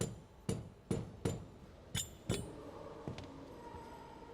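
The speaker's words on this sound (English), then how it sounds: "use a pair of pliers and a rubber mallet to separate the turbine housing" A rubber mallet knocks a turbocharger's turbine housing loose from the CHRA core on a 2013-2015 Ford Escape. Six or seven sharp blows land at roughly half-second intervals, close and fairly loud, with a faint ringing tail after each.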